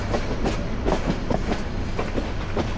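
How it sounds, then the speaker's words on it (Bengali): A passenger train pulls out of Chittagong railway station around a sharp curve, its wheels beating a steady clickety-clack rhythm over rail joints, heard close and continuous from on board with no talk. "ট্রেন বিশাল কার্ভ নিয়ে বের হয়ে আসতেছে এই চট্টগ্রাম রেলওয়ে স্টেশন থেকে।"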